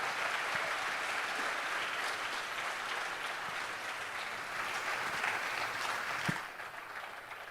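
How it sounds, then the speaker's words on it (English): Sustained audience applause at a public event in Jamaica honoring Gurudev Sri Sri Ravi Shankar: a steady, even roar of clapping from a large crowd that continues throughout with a slight easing at the end. "Let's give a big round of applause"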